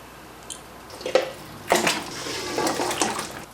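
Bone broth is poured from a container back into a cooking pot, with a few splashing gushes and trickles of liquid, fairly close and loud.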